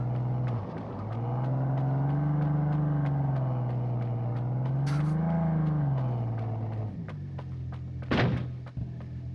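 A vehicle engine in the game Ring of Elysium drones steadily throughout, its pitch rising and falling as the car drives, with a brief mechanical clunk near the end.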